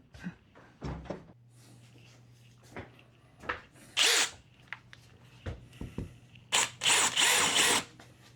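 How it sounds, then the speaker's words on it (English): A power drill boring into a wall beside a fireplace in short bursts, whirring spurts starting and stopping with rustling and handling noises in between, close and fairly loud. "How about if I drill a hole first?"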